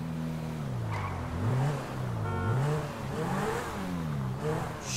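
Car engine in the video game GTA V revving up and down repeatedly, loud and close, with rising and falling pitch sweeps over a steady hum and no talking.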